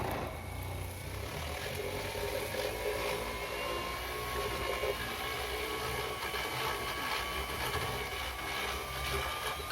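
A TOLSEN 280W six-speed random orbital sander runs at a higher speed setting, giving a steady, continuous buzzing whir with a rough rasping edge, close and unbroken throughout with no talking.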